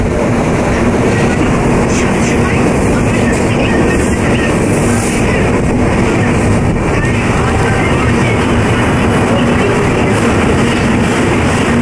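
The Coromandel Express 12842, bound from Chennai Central to Shalimar, running at speed, heard from inside as a loud, steady, dense roar of wheels and carriage noise with faint clickety-clack, unbroken throughout.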